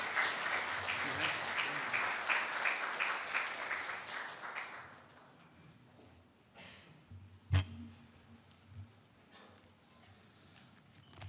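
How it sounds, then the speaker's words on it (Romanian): A church congregation at a Sunday service claps for about five seconds, dense and fairly close, then it fades into quiet room noise with a few scattered knocks and shuffles. "Acum putem să-i aplaudăm"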